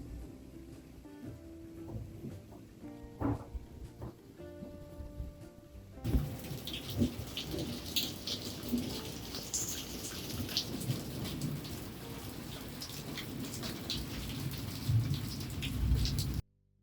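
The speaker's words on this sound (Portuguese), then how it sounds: "no primeiro momento deu uma chuvinha por aqui, mas não foi uma chuva tão forte" Light rain pattering on potted succulents outdoors in summer, a steady soft hiss of drops that swells from about six seconds on, with faint rumbling underneath.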